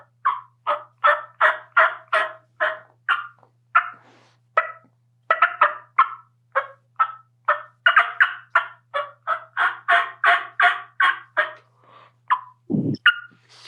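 Wild turkeys call in a long run of loud, close, evenly paced notes, hens sounding off in rapid clucking bursts with short pauses between series, and one low thump near the end; no talking.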